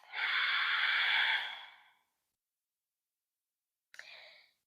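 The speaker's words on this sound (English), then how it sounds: "maybe equal part breathing or ujjayi breathing" Yoga breathing during a restorative session: a long, close, airy exhale lasting about two seconds, then silence, then the start of another breath, with no talk.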